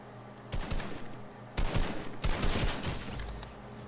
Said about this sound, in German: Ein normaler Schuss und ein Headshot.